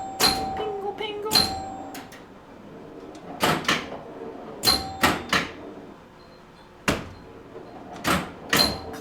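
Old-school electromechanical pinball machine bells and chimes: irregular bright metallic strikes with short ringing tails, some in quick pairs, over a quiet room background.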